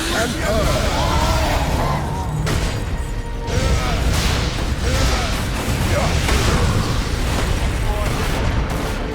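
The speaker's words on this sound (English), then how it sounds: "Power core explosion." A power core explodes in the Space Marine video game, a loud, sustained roar of blasts and crashing debris that fills the whole stretch, with a voice speaking over the din.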